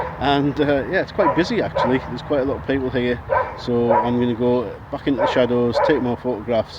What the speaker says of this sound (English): That's a dog barking